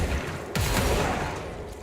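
In the video game Control, an explosion erupts with a sudden loud blast followed by a rumbling, crackling tail that slowly fades.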